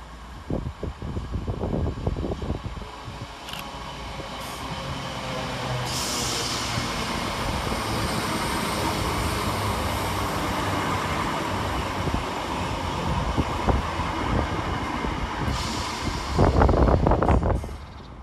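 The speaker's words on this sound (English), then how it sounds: "Arriving next into the station is 319361, working the 1137 Northern service from Crewe to Liverpool Lime Street." Northern passenger train 319361, on a Crewe to Liverpool Lime Street service, rolls into Patricroft railway station with a sustained rumble of wheels on rails, growing louder near the end with squealing and clattering as it arrives.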